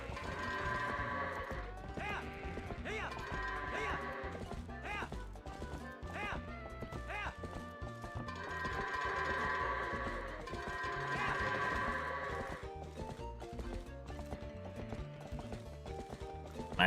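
Horse hooves clip-clopping alongside goat bleats during goat herding in the Twilight Princess video game, with steady rhythmic hoof beats under game music throughout.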